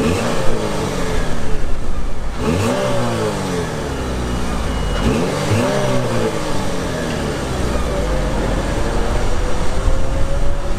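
A 2016 Buick Verano engine is revved loudly up close, rising and falling through two or three sharp throttle blips over a steady idle.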